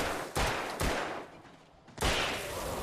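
Three gunshots from the video game Alan Wake crack out in fairly quick succession, each a sharp broadband burst with a brief ringing tail, the last one followed by a sustained rush of noise.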